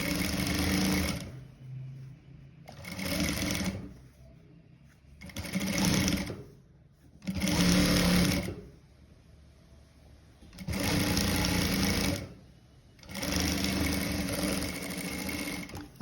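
A sewing machine stitches a frock seam in six loud, even bursts of one to two seconds, separated by short quiet gaps of fabric handling.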